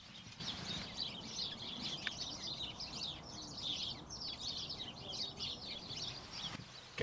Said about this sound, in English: I can hear some sparrows.